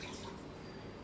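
Half a cup of water poured into a pan for sugar syrup for Portuguese biscoitos brancos, a soft, steady trickling splash heard close up for about a second.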